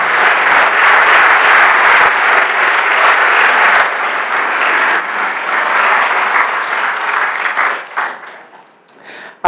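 A conference audience at a real estate event gives Mark a loud, sustained round of applause. The dense clapping holds steady, then fades and dies away near the end.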